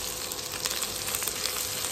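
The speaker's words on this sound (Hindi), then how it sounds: "इनका कच्चापन निकलने तक इनको हम भूनेंगे मीडियम फ्लेम पे।" Chopped garlic and ginger frying on a medium flame, an even dense crackling sizzle close by with faint stirring scrapes.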